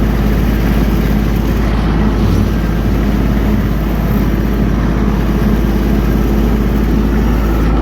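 Kubota ST 341 compact tractor driving through brambles on rough terrain, its engine a steady, loud, close drone with a constant low rumble and no break throughout.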